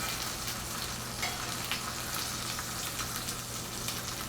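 Beef shank searing in a hot pan, a steady, dense sizzle and crackle of frying meat, close and even throughout with no talking.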